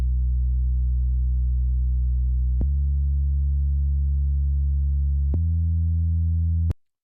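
Deep sub bass from a music beat, heard before any EQ is applied, plays as a pure sustained low tone. It steps to a new pitch twice with brief clicks at the changes, then cuts off abruptly, with no other instruments or voices.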